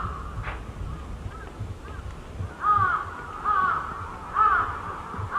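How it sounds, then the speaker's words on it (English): Crows caw in the port of Kesennuma, a series of harsh calls coming in groups of two or three across a quiet background, moderately distant and growing louder toward the end. "The cries of distant crows, the loudest noise that you can hear."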